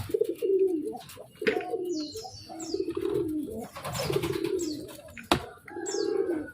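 A pet dove or pigeon coos in repeated soft phrases close by, with a few chirps from other birds mixed in and no talking.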